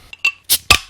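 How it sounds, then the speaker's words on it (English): A beer is cracked open, giving a quick run of four sharp, close clinks and snaps with short silences between them and no talking. "Let's crack open a beer"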